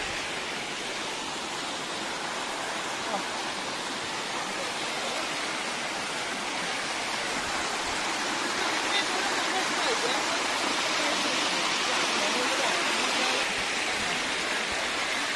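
Rahas Waterfall at Soro, Baleswar, a tourist and picnic spot, sends up a steady, dense roar of falling water that holds loud and unbroken for the whole stretch.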